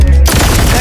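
A brief, loud burst of rapid gunfire from a sound effect, erupting abruptly and filling the short moment with dense, harsh crackle, with no talk.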